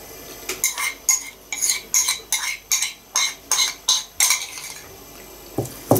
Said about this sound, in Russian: Я ложечку возьму, потому что салатик вилкой не подцепляться.